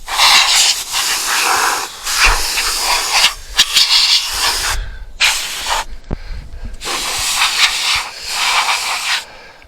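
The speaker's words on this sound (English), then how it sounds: "dust blower." Bursts of compressed air from a dust blower hiss across a Dutch steamboat lantern with grids, several loud close blasts of varying length separated by short pauses.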